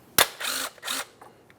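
A ratchet on the brake caliper banjo bolt of a 2008-2012 Jeep Liberty: one sharp click, then two short raspy ratcheting strokes and a couple of faint ticks, close and alone.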